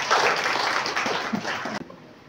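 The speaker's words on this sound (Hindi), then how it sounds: "जोरदार तालियां बजाओ" Crowd clapping at a prize ceremony for a pigeon flying tournament, a dense burst of applause lasting under two seconds before cutting off abruptly into near silence.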